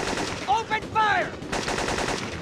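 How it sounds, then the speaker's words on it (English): Automatic gunfire in the video game Syphon Filter 2, a short loud rattling burst mixed with game sound effects and a brief voice callout, lasting a couple of seconds. "Open fire!"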